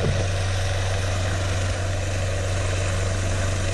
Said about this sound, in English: As the helicopter roared back into life